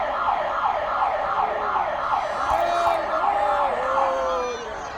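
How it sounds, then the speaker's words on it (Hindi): Fire brigade sirens sounding in salute at Mumbai fire brigade headquarters, several wailing sirens overlapping in steady repeated sweeps, loud and continuous, with a low vehicle hum beneath. "फायर फाइटर्स सायरन बजाकर राजा को सलामी देते हैं"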